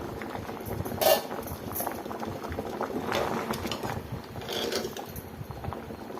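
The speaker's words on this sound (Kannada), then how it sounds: "ಒಂದು 10 ನಿಮಿಷ ಕುದಿಸ್ಕೊಳ್ಳೋಣ ಸಾರು" A covered pot of snake gourd sambar bubbles steadily at a rolling boil, a continuous close gurgling texture with one brief louder clink near the start.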